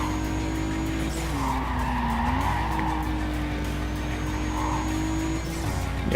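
Race cars in the Need for Speed Carbon video game, with sustained tire squeal and skidding over a steady engine drone, loud and continuous, the screech rising and bending mid-drift with no talk.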